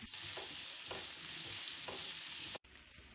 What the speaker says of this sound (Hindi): प्याज हम हल्के से रोस्ट करेंगे।